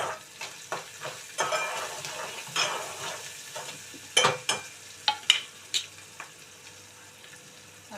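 Onions sprinkled with salt fry in a pan for a brinjal and potato curry, a steady sizzle broken by sharp scrapes and knocks of a stirring spoon, close and moderately loud.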